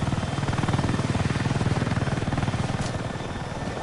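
A helicopter in Battlefield 6 flies close by, its rotor blades chopping in a fast, steady, loud rhythm that fills the whole sound with no talking.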